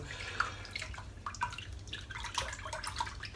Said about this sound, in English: I'm just going to rinse my tub of soap off now.